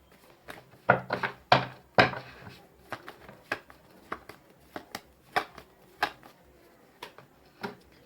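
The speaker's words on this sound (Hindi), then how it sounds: "अब एक लास्ट कार्ड निकालेंगे" A tarot card is drawn from a deck, giving a series of crisp, close card slaps and shuffling snaps, with a few louder ones early on and then lighter, irregular taps.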